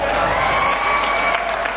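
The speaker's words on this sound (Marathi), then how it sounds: "टाळ्या वाजवा." An audience applauds at a youth summit session, a dense, steady patter of clapping from a crowd, loud and sustained with some background voices mixed in.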